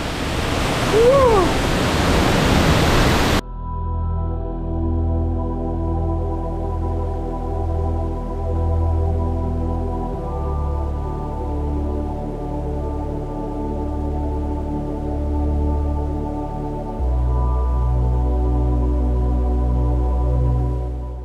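Waterfall in Da Lat, Vietnam, heard from close by as a steady broadband roar with no pauses, after a short louder burst at the start that may carry a voice.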